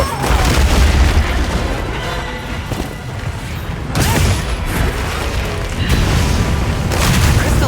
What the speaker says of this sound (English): Crystal exploded.